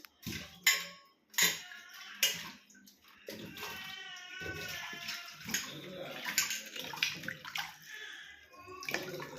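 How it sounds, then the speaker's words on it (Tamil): Fresh corn cobs are washed by hand in water, giving irregular close splashes and sloshing with occasional clinks of a metal vessel, loud and uneven. "இந்த கருதை கழுவி கொடுப்போம்"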